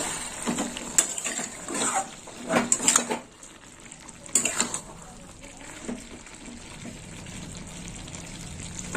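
A spoon stirring vegetable curry with fried eggplant, potato and carrot in a pan, scraping clinks and soft sizzling in a few bursts, then a quieter simmer.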